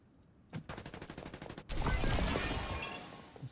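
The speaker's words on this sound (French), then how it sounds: "Ça tire par là-dedans." Gunfire in Farlight 84: a rapid burst of about a dozen evenly spaced shots, then a loud sustained blast of mixed fire and crashing that fades slowly, with one faint shot at the end.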